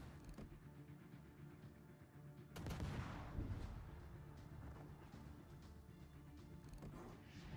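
Warship guns fire HE shells in World of Warships: a sharp salvo crack leads into a rolling, rumbling roar that slowly fades, with quieter gunfire before and after, heard alone at low overall level.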